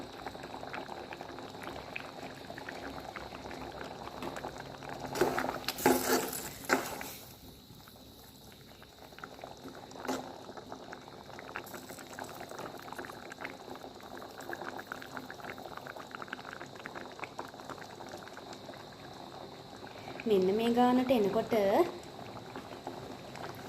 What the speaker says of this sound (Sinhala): දැන් අපි මේ ටික හොඳට මික්ස් කරගෙන ලිපේ ගින්දර පොඩි ප්‍රමාණයක් වැඩි කරලා මිටි කිරි ටික හොඳට උතුරන්න දීලා